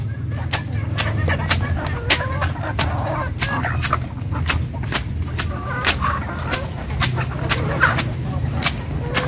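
Chickens and geese cluck and honk while gathering on a small farm to eat boiled snails, with frequent sharp pecking taps, a low steady hum beneath and the birds' calls scattered throughout.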